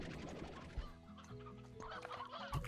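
Chickens in the video game Slime Rancher cluck in a corral, a busy overlapping chorus of short clucks and squawks, close and continuous, with other game sounds beneath.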